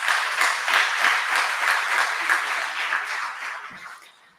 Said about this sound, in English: Another hand of applause for my boss.